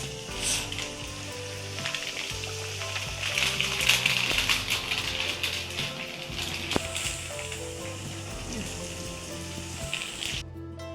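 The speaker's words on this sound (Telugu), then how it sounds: "ఇలా నూనె కాగినాక వేసుకోవాలి ఒక్కొక్కటి" Rice flour nippattu frying one at a time in hot oil, a steady sizzle throughout with some background music-like tones and occasional clatter.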